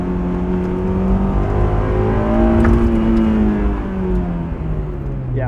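A 2001 Honda S2000 engine revs hard on a racetrack, loud and close, with pitch climbing and falling through the gears as the car pulls and shifts.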